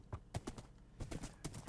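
A horse's hooves clop in the Minecraft video game, a handful of quick, quiet thuds in an uneven trotting rhythm, heard alone.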